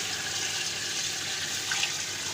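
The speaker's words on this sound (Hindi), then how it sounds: "इस पॉइंट के ऊपर तकरीबन इसमें 4 से 5 गिलास पानी डालेंगे।" Several glasses of water pour steadily into a pot of beef nalli biryani, a continuous splashing rush that stays even and fairly loud throughout, with no talking.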